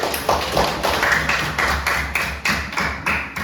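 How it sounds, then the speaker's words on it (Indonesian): A group claps together in a steady rhythm of loud, evenly spaced bursts, close by, with no one talking. "Tepuk tangan dulu kita semua."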